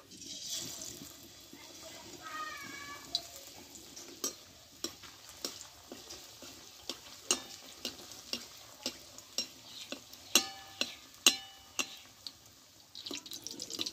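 Batter-coated spiced eggplant pieces frying in hot oil, a steady soft sizzle broken by a regular run of sharp clicks and taps from a utensil, fairly close and alone with no talk.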